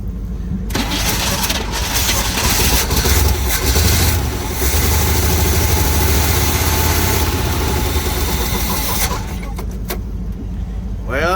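A 1970 Chevrolet C20 truck engine cranks and catches, then runs roughly and loudly for several seconds before dropping off, with voices over it.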